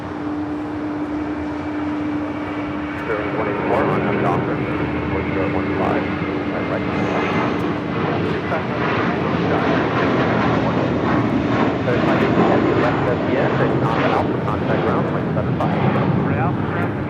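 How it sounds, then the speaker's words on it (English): A 27-year-old MD-11 freighter at Los Angeles International Airport roars past, its engines building into a loud sustained rumble that swells and stays heavy for the full stretch, with a steady tone fading early on. "This is a 27-year-old MD-11 freighter built"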